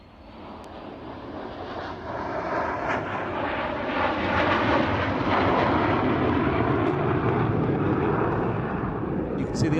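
A Canberra PR9 jet at an airshow passes overhead with a loud, building engine roar that swells and holds steady, while a commentator talks over it.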